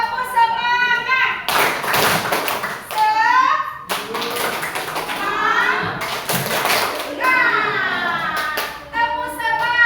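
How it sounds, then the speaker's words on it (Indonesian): Schoolchildren in a classroom performing a rhythmic tepuk semangat clapping chant, bursts of group claps and taps alternating with their chanted voices, loud and close. "Coba dulu tepuk semangat."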